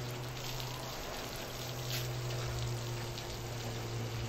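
Rain effect from a rain bar used as a staged water-spray rig, giving a steady, even hiss of falling water and droplets throughout, close and continuous with a low hum underneath and no talking.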